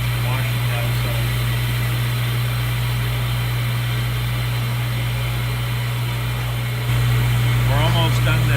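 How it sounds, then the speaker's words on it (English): A dairy half-gallon bottle cleaning machine runs its soap cycle, with a loud, steady motor drone and a constant hiss of spraying water. The hum deepens slightly near the end, where a voice briefly speaks over it. "The soap cycle has started, and you can already see it's blasting inside the bottles and it's washing the outside."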